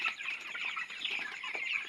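Flock of chickens clucking continuously in a poultry shed, a busy overlapping chatter of short calls close by with no talking.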